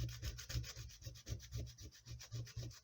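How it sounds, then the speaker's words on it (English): Sticks of soft pastel scraped over a small metal cheese grater, a close, rhythmic rasping with rapid back-and-forth strokes that continue steadily without pause or speech. "lots of pastels in different colors"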